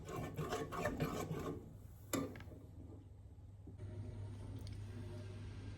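Salt is stirred into a Cajun cream sauce, a soft scraping and rubbing of a utensil against the pan that is busier at first, then fades to a quiet, faint swish.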